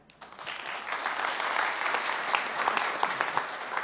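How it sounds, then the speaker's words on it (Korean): Applause at a Yeongdeungpo district forum on sanitation and waste for the presenting professor builds quickly, then holds as a steady, moderately loud wash of many hands clapping. "발제해 주신 배재근 교수님께 다시 한번 큰 박수 부탁드립니다"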